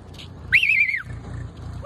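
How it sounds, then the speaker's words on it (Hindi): A herder in Bhilwara, Rajasthan gives a single sharp whistle to call goats and sheep. The whistle is a short, clear tone of about half a second that bends downward, and a faint second whistle begins at the end. "भाई एक बार लगाना सीटी बुलाना"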